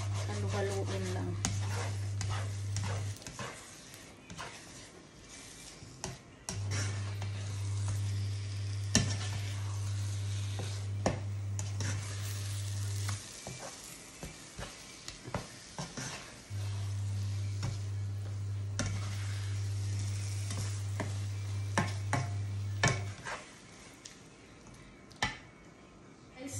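A spatula scrapes and stirs an omelette mixture in a hot pan, soft sizzling underneath steady rubbing strokes, close and fairly quiet, with a steady low hum running through parts of it.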